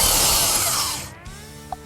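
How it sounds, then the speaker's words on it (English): A power drill whirs loudly while driving a log bolt into a wooden log cabin corner, then winds down and stops, followed by a faint tap. "you take one of your log bolts and you drill it in the corner here"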